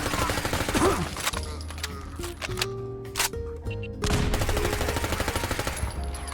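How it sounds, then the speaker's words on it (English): Rapid MP5 submachine gun fire in Fallout 4 in a confined space, dense full-auto bursts at the start and again after a short lull, loud and close with clicking game sounds between. "Just a bit of gratuitous MP5 fighting for you guys"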